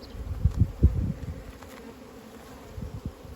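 Honeybees buzzing close by at a hive in short, uneven bursts, with a low droning hum between louder passes.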